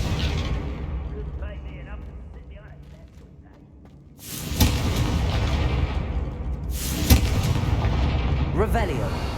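The Confringo spell's fiery blasts in Hogwarts Legacy boom twice over a steady roar of game sound, and a voice talks during the scene.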